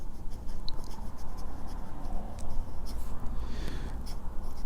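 A Jinhao 9056 Rosewood fountain pen with a medium nib scratches steadily across paper, giving a soft, continuous, close-up scritching of writing strokes with no voices.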